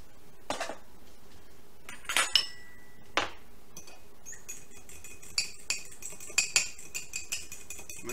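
An egg beaten with a utensil in a bowl gives sparse, light clinks and taps against the bowl, isolated at first, then a quicker cluster of faint strokes near the end.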